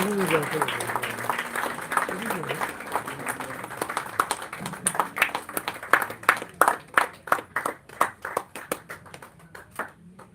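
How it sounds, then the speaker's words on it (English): Audience at a book launch for a guide to Goa's natural wonders claps, scattered at first over murmuring crowd chatter, then building into sharper, louder, irregular hand claps toward the end. "Please clap for her"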